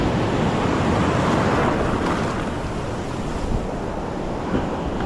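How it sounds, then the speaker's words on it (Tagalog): Large ocean waves surging at a shoreline fishing spot, a steady loud roar of broken surf with wind buffeting the microphone throughout, no voices. "Ang laki ng alon."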